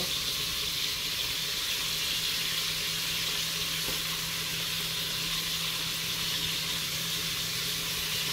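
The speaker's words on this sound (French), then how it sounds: "Et je fais griller ma viande." Meat searing in a hot pan, a steady close sizzle holding evenly throughout with a faint low hum beneath.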